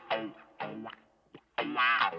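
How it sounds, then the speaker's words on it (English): Electric guitar through an auto-wah envelope filter, a few plucked notes and chords whose tone sweeps with a vocal, quacking wah on each attack, close and clear with short gaps between phrases and no talking. "this kind of like auto-wah envelope filter sound"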